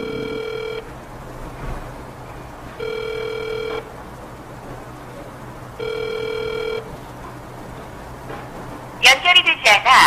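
A phone call rings out unanswered: three evenly spaced ringback tones pulse about every two and a half seconds over quiet room noise, and a short burst of voice-like sound follows at the end.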